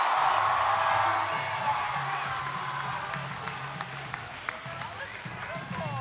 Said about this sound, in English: can I get a big round of applause for Kiyani Benally?